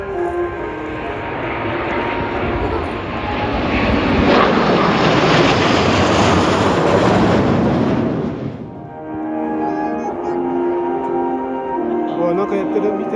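Blue Impulse jets pass overhead at the Iruma Air Show, a loud swelling roar that builds over several seconds, peaks, then cuts away to a fading rumble as spectators talk in the background.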